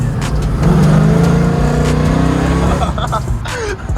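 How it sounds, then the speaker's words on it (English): A 1969 Camaro Z28 with a 680 hp LS3 V8 revs loudly up close, deep rumbling engine note climbing and falling, with people talking over it. "It sounds like an old like 454, like an old big block motor. It's ls3."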